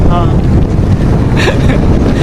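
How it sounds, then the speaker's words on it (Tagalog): Strong headwind roars and buffets the microphone in a continuous low rumble, with a faint voice briefly audible beneath it. "Sa lubong kasi po ang hangin."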